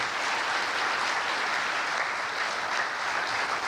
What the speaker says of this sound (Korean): 그분들께 큰 박수로 감사의 마음 전하겠습니다.